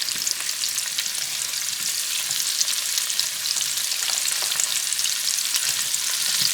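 Onion sizzles steadily in a pan of coconut oil with a little butter, a dense, even, close frying hiss that runs unbroken throughout with no voices.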